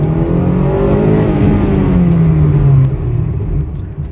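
A Honda VTEC engine revs hard with a loud, close, droning roar whose pitch rises and then drops as the throttle is released, tapering off near the end.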